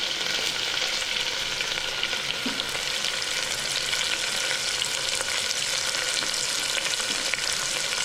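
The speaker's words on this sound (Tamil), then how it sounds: "எல்லாம் சேர்த்து நல்லா வதக்கி விட்டுக்கலாம்" Onions sauté in a pan for jeera rice, a loud, steady, close sizzle that runs unbroken, with faint stirring underneath.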